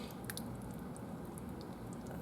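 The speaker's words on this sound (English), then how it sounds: "So let's go ahead and stir this around and just check the consistency." A pot of thick homemade chili with noodles being stirred, giving a steady run of soft, wet squishing and sloshing sounds close by, with no talking.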